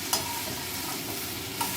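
Bhuni khichuri ingredients frying in a pan for a Bengali dish, with a steady close sizzle and a couple of sharp scraping stirs near the start and end, with no talking.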